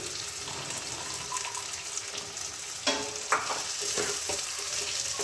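Cabbage curry with potatoes and peas frying in a pan, a quiet steady sizzle broken by a couple of sharp spatula knocks and stirring scrapes.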